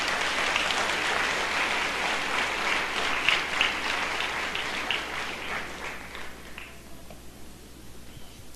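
A church congregation applauding, a full, steady crowd clapping that swells briefly in the middle and then fades out toward the end, leaving a quieter room tone.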